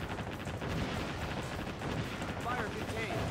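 Heavy missile barrage in the naval combat game Warship Gunner 2: a dense, continuous roar of overlapping blasts and rumbling detonations that never lets up, with faint whistling streaks near the end.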